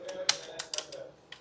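Light, quick keystrokes on a computer keyboard as an SQL query is typed into a table, a short irregular burst of close clicks at a quiet level.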